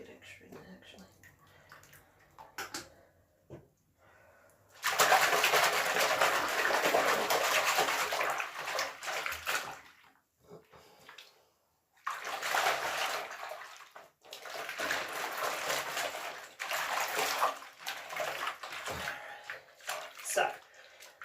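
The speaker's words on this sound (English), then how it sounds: "First step is just to soak it. I'll put a little bit extra in there actually." Water running from a tap to soak a finished cross-stitch project, loud rushing bursts in several long stretches separated by quieter gaps with handling sounds and a voice talking.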